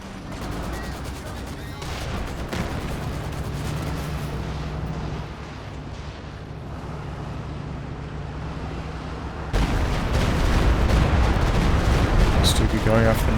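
Booming explosions from a Stuka rocket barrage in Company of Heroes 2, a rumbling wall of blasts and battle noise that swells louder in the final seconds, with a commentator talking throughout.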